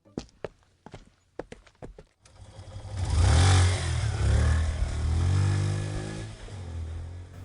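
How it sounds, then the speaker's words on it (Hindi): A motorbike starts up and rides off, its engine rising in a loud revving drone after a few sharp knocks and steps, then holding steady close by. "विकी और चेतन घर से बाहर निकले और अपनी बाइक पे बैठकर वहां से चले गए।"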